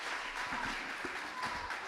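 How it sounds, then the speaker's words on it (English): An audience at a poetry festival event claps in a short burst of applause, a dense, even patter of many hands filling the room with no voices over it. "Can you please just give them a round of applause for me?"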